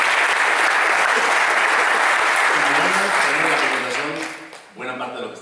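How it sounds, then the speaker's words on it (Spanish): An audience at a marketing talk applauds a guest named Eduardo, dense clapping filling most of the stretch before thinning and fading, then a voice begins speaking over the tail. "un round de aplausos para nuestro amigo Eduardo"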